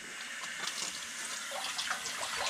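Water runs steadily from a tap into a rope washer, a constant hissing splash at moderate volume with no voices over it.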